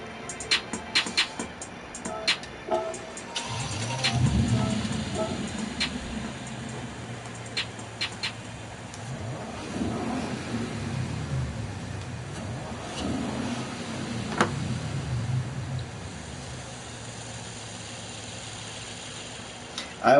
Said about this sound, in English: I want to hear the difference between these engines.